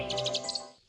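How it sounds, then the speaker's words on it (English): A crowned eagle, a large African bird of prey in the Congo forest, gives a quick series of about six high, clipped whistling calls, clear and fairly close, then fades out. "the crowned eagle is one of Africa's largest and most formidable birds"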